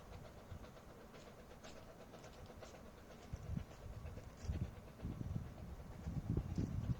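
Train pulling away with its exhaust chuffing, faint and distant at first, then growing into louder low rhythmic puffs with light rail clatter over several seconds.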